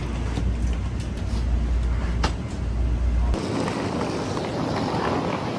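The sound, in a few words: train ride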